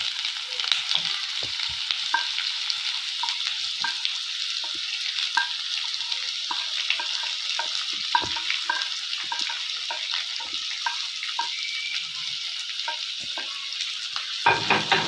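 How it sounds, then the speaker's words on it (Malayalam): Sliced onions sauté in a hot pan with ginger and garlic, a continuous close sizzle broken by frequent light scraping and stirring taps from a spoon. "സവോള നല്ലോണം ഒന്ന് വഴന്ന് വരണം"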